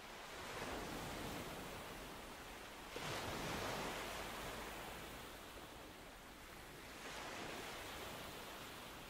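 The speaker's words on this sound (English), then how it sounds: "Listen to the timeless curl of the waves" Ocean waves wash onto shore in slow, rolling swells, each surge of surf rising and fading in a steady rhythm, soft and distant.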